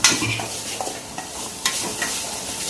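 Boiled chickpeas and ivy gourd fry in a pan with a close, continuous sizzle, broken by a few scraping stirs of a spatula. No voices.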